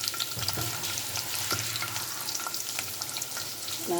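Onions sizzle and crackle in hot oil in a pan while a Tamil ridge gourd curry is made, a close, steady frying hiss with scattered pops and the occasional scrape of stirring.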